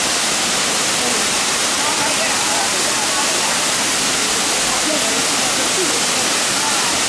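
Kintampo waterfall in Ghana: a loud, constant roar of falling water, dense and unbroken for the whole stretch, heard close up.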